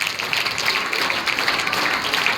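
Junior college students applauding together at a meditation awareness session, a dense, steady wash of many hands clapping throughout.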